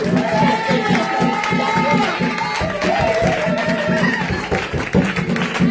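Church congregation at a special worship service cheering and applauding, a dense crowd roar with rhythmic clapping and raised voices throughout.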